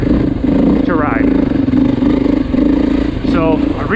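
A 2024 Beta 480 RR dirt bike engine runs at a steady idle-like drone close by, with brief revving swells, under a voice talking.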